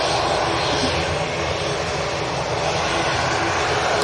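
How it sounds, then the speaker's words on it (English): A Loganair propeller airliner's engines at Manchester Airport, a steady, loud, broad roar that holds level throughout without a break. "We will be jumping onto that Logan Air as soon as possible, because I know you can hear it."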